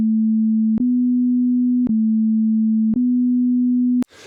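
Pure sine tone at 247.5 hertz, a steady clean hum held for about four seconds with faint clicks at regular breaks, alone and fairly loud.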